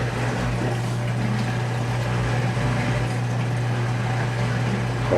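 Washing machine pumping out rinse water after the first rinse, a steady loud mechanical hum with a constant low drone and sloshing water noise, unbroken and without talk.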